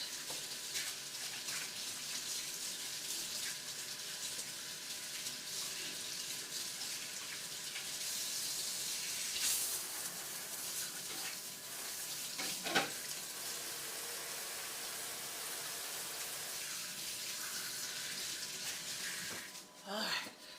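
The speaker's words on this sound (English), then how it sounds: "Wash my hands real fast" Hands are washed under a running kitchen tap: a steady, close rush of water flows almost continuously, with brief splashy changes, before cutting off near the end.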